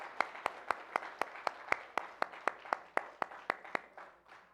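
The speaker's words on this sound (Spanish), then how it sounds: "hermanos, démosle un fuerte aplauso a nuestro Dios" A church congregation at a Sunday service claps in unison, about fifteen crisp claps at a steady tempo over a soft wash of crowd noise, fading toward the end.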